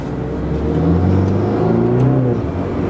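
A gray BMW 330i F30 with a Bootmod3 stage 1 flash tune passes by, its mid-pitched engine droning steadily and rising slightly as it revs, with a fairly loud, sustained sound and no talk.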